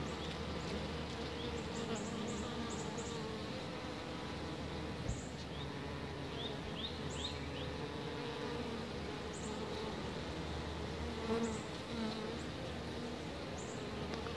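Honeybees buzzing at a hive with a laying worker, a dense continuous hum with individual bees zipping close by now and then, steady and fairly near, no talk.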